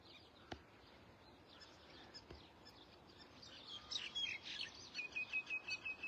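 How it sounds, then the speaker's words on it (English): Several different wild birds chirp and call outdoors, faint and distant at first, then a busier stretch of overlapping tweets and a repeated rhythmic call near the end. "the amount of birds, the very different birds that are chirping and calling."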